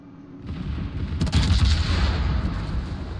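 The secondary battery guns of the battleship Scharnhorst firing in World of Warships, a rumbling barrage of repeated booms that swells after a quiet start and keeps pounding steadily.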